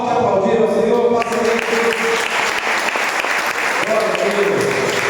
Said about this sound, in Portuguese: Vamos todos bem forte aplaudir ao Senhor